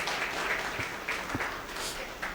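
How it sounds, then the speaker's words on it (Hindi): Audience applause fills a hall at a World No Tobacco Day gathering in Korba, a moderate, even patter of clapping from a seated crowd. "जोरदार तालियां हमारी दीदियों के लिए।"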